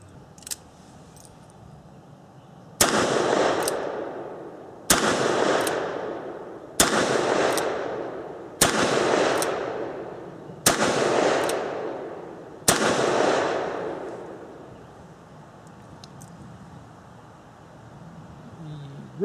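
Ruger Blackhawk .38 Special revolver fired at an outdoor shooting range: six loud, sharp shots spaced about two seconds apart, each ringing out with a long decaying echo.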